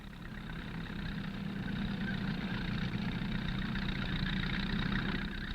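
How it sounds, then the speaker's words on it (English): A tractor engine runs steadily while hauling two wire haulage ropes and an earth wire for towers on a 1965 high-voltage transmission line build, a continuous low drone throughout with no speech. "the tractor brings over 2 haulage ropes and slung below them the earth wire that will top the towers"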